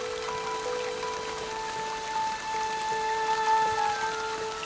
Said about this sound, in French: une pluie froide, drue et incessante tombe de mai à septembre